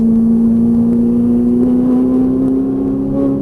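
A Ferrari 458 Italia engine drones steadily from inside the car on a track, its loud, even pitch rising slowly as the throttle is squeezed through a corner.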